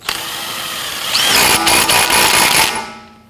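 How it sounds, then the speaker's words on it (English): Power tool tightening an axle nut on a 1992-1996 Toyota Camry wheel hub during a hub and bearing replacement: a brief whirring rattle that builds into a loud burst of hammering impact bursts for about a second and a half, then trails off. "Install your axle nut. Snug that down."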